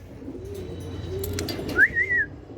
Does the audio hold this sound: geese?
no